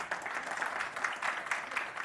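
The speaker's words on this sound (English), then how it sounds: "Let's clap for her." Applause from an audience at a media briefing signing ceremony, fairly faint and distant clapping with a slightly uneven rhythm, no one speaking over it.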